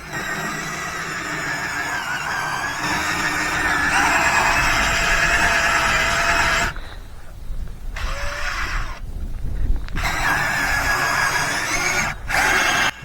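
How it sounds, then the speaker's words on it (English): A drill brush whirs loudly and steadily, scrubbing rubber car floor mats from a Volkswagen Atlas with a harsh, continuous grinding hiss, broken by a few short pauses near the end. "We're going to be using a drill brush to hit all the mats, get in all the cracks."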